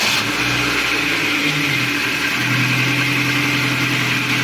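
A Ford C-Max 1.6 petrol engine with an unstable idle fires up and revs, the close, loud engine note rising and settling into a steady hum, with no voices over it.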